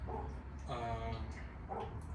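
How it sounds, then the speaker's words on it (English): A dog barks repeatedly in the background of a garage where a 2002 Chevrolet Tahoe engine is being removed, a few short harmonic barks and yips spaced over two seconds, moderately distant. "That dog don't ever shut up."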